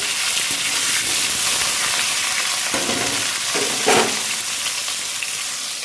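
Potatoes hit hot oil already tempered with cumin seeds, giving a steady close sizzle and frying hiss throughout, with a couple of brief stirring or spatter bursts near the middle, no talking.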